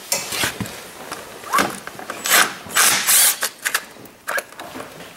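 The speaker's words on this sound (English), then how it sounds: "25 Torx to take loose the uh, belly pan screws off of the skid pan" T25 Torx driver backing out the belly pan screws on a snowmobile skid pan, producing close, irregular ratcheting clicks and scraping bursts in short uneven spurts.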